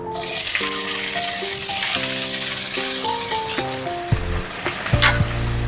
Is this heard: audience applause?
no